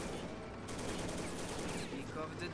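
Gunfire in the WW2 video game Soldiers: Heroes of WW2, a dense continuous fusillade of rapid shots and bursts with battle noise, loud and sustained, with a voice talking over it.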